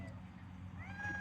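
A house cat lets out a faint, drawn-out meow near the end, rising in pitch, heard quietly over a low steady background hum.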